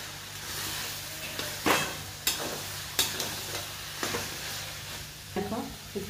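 A spoon stirs a bottle gourd and prawn curry in a frying pan, steady sizzling broken by several sharp scraping knocks against the pan at irregular intervals, close and alone without talk.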